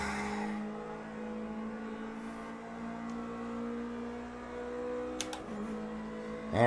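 Race car engine in Project Cars 2 holding a steady sustained tone at speed, with a brief rise near the end and faint whirring and clicks over the drone, no voices.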